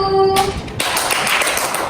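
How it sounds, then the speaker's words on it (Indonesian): Applause from a university class breaks out after a brief voice, dense overlapping hand claps continuing steadily to the end. "tepuk tangan untuk kelompok 1"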